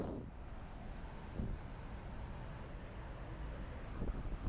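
Steady low rumbling wind buffeting an Insta360 Mic Pro microphone, continuous and fairly loud throughout with a couple of slightly stronger gusts.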